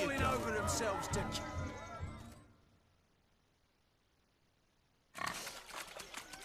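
Pigs in The Witcher 3 video game grunt and squeal amid scuffling and thumps for about two seconds, then fall quiet before the noise returns; a voice speaks during the commotion.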